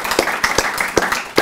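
Audience applause at an evening networking event: a short burst of scattered hand claps, fairly close and irregular, with a few sharper individual claps standing out.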